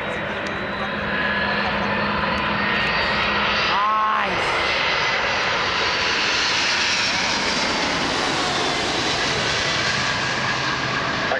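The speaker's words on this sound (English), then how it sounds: "FedEx MD-11's here." A FedEx McDonnell Douglas MD-11 jet at Toronto Pearson airport produces a loud, close, sustained engine roar with a brief pitch sweep as it passes, then a steady whine and rumble.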